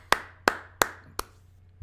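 Four sharp, close hand claps ring out one by one at an even, unhurried pace, loud and isolated against near silence.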